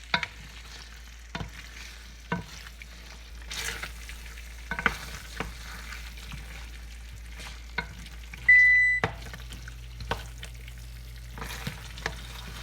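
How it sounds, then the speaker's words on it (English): Fried pork stirred into a frying pan for Kapampangan pork asado, with scraping stirs and clatters over a low sizzle, plus a brief electronic beep near the end. "I'm gonna go ahead and mix in our fried pork."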